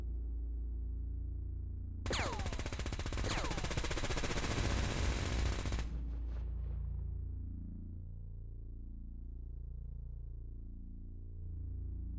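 Shotgun fire in the X-Com Files video game erupts as a loud, rapid burst of blasts lasting a few seconds, set against a low background rumble that lingers and fades after the shooting stops.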